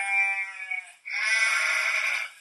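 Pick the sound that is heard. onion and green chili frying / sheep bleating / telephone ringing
sheep bleating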